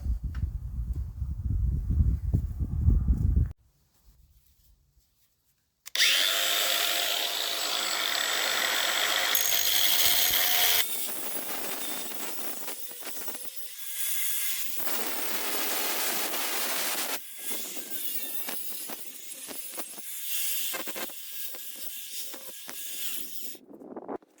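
A power tool grinds and cuts through the 1.5-inch exhaust tailpipe on a Massey Ferguson 35 diesel tractor, a loud harsh whine that comes in sustained stretches after a short rumble and a silent gap.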